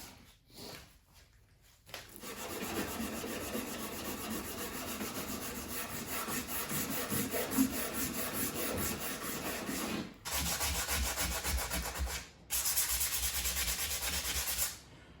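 Close, steady sanding of a wooden axe handle with 80 grit sandpaper in a shop, a continuous rough rubbing that runs for long stretches and stops briefly a few times.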